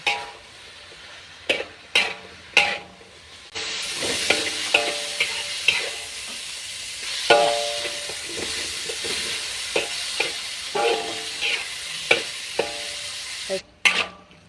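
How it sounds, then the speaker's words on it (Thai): Onion flowers stir-fried in a pan, with a loud, steady sizzle and repeated sharp scrapes and clanks of a utensil against the pan. "ผัดหอมเนาะ ดอกหอม"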